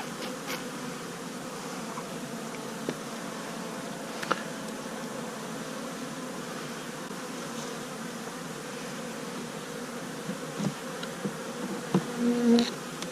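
Honey bees buzz inside an open beehive on a warm winter day, a steady close droning hum that carries on without a break, with no voices.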